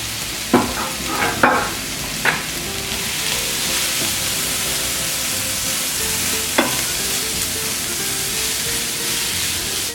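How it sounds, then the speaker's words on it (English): Keema sizzles steadily in a pan with onions, ginger, garlic and chilies, a constant loud frying hiss broken by a few spoon scrapes and knocks early on and one later, with no talking. "keep stirring those onions, ginger, garlic, and chilies so that they don't burn"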